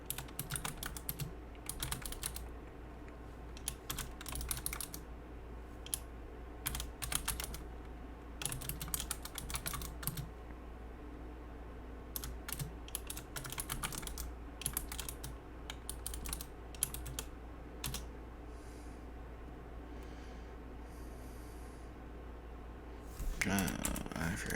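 Someone types code on a computer keyboard while working through a Godot 4.3 game tutorial, producing rapid bursts of soft clicking keystrokes separated by short pauses, close and steady over a low background hum, with no talking.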